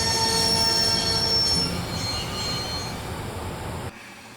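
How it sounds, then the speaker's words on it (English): Train braking in the Broken Sword video game, with loud, sustained high wheel squeals over a dense rail rumble that eases off before cutting out near the end. "I'd always wanted to stop a train, and now was my chance"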